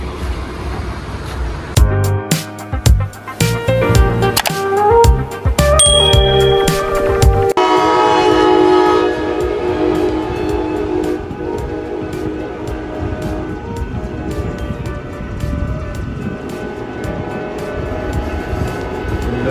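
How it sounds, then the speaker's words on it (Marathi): An Indian train is heard moving and sounding its horn: loud tonal horn blasts cut in and out over the first several seconds, then a steady horn-like drone and rumble continue. "ट्रेन शुरू होते ही खत्म हो गई"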